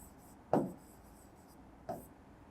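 Two short pen strokes scratch across paper as a heading is written by hand, close and faint, separated by a brief pause.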